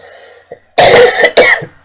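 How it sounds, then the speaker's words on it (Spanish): Two or three sharp, close coughs follow a faint breath, loud and raspy like a throat being cleared. "perdonad la tos"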